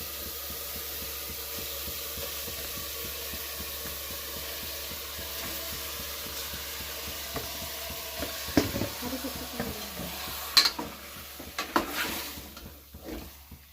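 Mutton going into a pan and frying for biryani, heard as a low steady sizzle with rhythmic stirring pulses, then louder clatter and scraping bursts toward the end.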